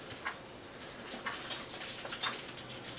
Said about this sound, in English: Sorry about the noise, the dog just came in from a walk.